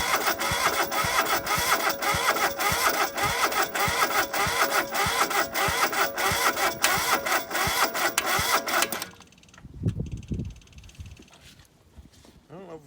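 A diesel engine is cranked for a cold start in snow, a fast, even, rhythmic churning of the starter lasting about nine seconds before it cuts off, leaving quieter low rumbles afterward.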